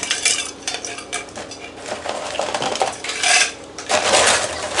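Ice clinking and rattling against the sides of a cup as it is stirred, with bright, irregular knocks and scrapes rising and falling across the stretch, close up and fairly loud, no voices.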